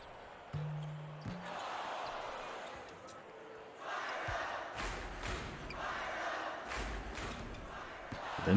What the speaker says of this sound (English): Crowd's feeling it, man, a little bit.